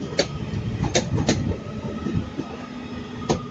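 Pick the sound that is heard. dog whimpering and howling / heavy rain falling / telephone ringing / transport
transport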